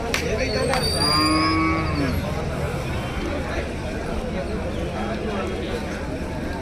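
Cattle moo with a long, drawn-out low call near the start, under a dense outdoor din of livestock and people talking.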